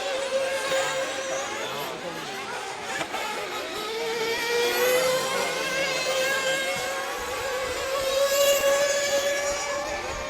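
Nitro RC truggy engines race in a B main at a season-opening event, a steady high-pitched buzzing drone with rising and falling whines as the cars pass, heard continuously at a moderate distance.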